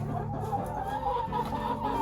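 Backyard free-range chickens clucking steadily and close by while being fed greens, chicken feed and cracked corn, a continuous murmur of several hens.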